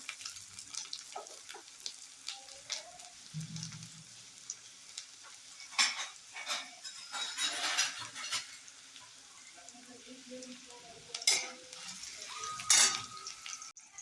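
Finely chopped ginger and garlic hit a spoonful of hot oil with a light, crackling sizzle, broken by several stirring scrapes and clinks of a spoon against the pan. No one speaks.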